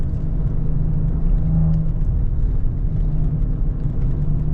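A 2016 Maserati Ghibli S Q4 four-door sports sedan accelerating, heard from inside as a steady, deep engine rumble and whir that holds at a fairly constant level throughout, with no speech.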